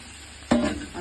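Chicken and potato drop into a pan of frying spice paste for Bihari-style chicken kosha. One sudden sizzling hiss bursts out and then fades over half a second, close and moderately loud, with no voices.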